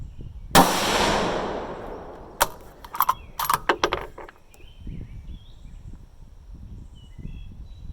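A single loud, close rifle shot from a Ruger 6.5 Grendel firing a Hornady 120 ELD load over Alliant Power Pro 2000 powder, with a sharp crack and a decaying tail, followed by a few metallic clicks and clacks of handling the action.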